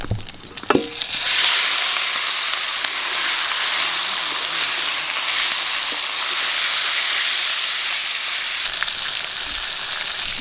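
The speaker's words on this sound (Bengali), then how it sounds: "এবার মাছটা দিয়ে দিচ্ছি" Hilsa fish sizzling in hot oil with dried red chilli and cumin in a heated kadai, a steady loud frying hiss that starts after a brief clatter and carries on without a break, with no voices.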